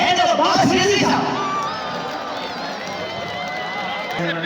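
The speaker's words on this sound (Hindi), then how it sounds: "आप लोगों की भरपूर तालियां आ रहे हैं जनाब सैयद हैदर अब्बास रिज़वी साहब।" Audience at a poetry gathering on a cultural day at a governor's house cheering and shouting loudly for a poet, a dense crowd roar that peaks early then settles into sustained cheering with voices mixed in.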